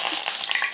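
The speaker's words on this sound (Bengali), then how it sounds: "তেলটা তো গরমই আছে, আমি এখন ফোড়নগুলো দিয়ে দেব।" Whole spices such as bay leaves, dried red chillies, cardamom, cinnamon and cumin hit hot oil in a pan, giving a brief, close, bright crackling sizzle with no voices.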